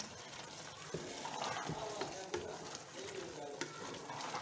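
Washed fenugreek leaves being stirred into vegetables frying in a pan for a spicy mixed sabzi, with a continuous soft sizzle and repeated scraping stir strokes, close and fairly quiet, with no talk.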